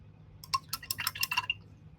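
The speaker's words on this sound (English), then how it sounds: "going to wash my brush" An acrylic paintbrush is swished and tapped in a water container, giving a quick cluster of light splashes, drips and small clinks, close and clear with no talking.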